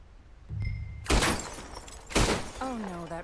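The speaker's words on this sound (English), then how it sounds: "shoot three bottles" Bottles shot in a video game, two sharp gunshots each followed by glass shattering, with a brief tonal cue before and a short voice-like sound at the end.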